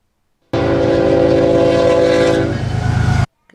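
Union Pacific locomotive in a video game rolls past loud and close, its horn blaring as a steady chord for a couple of seconds over heavy rumble and rhythmic wheel clatter, then cutting off while the rumble carries on.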